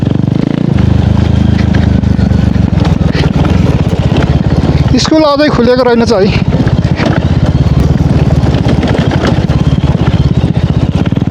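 A KTM Duke 390 motorcycle engine idles and rumbles loudly and steadily close by for the whole stretch, with a short burst of speech over it partway through.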